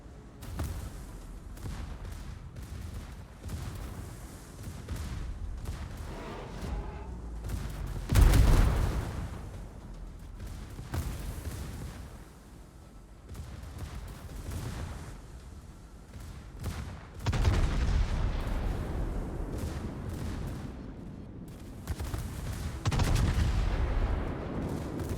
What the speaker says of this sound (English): I think gunfire sounds are dialed in.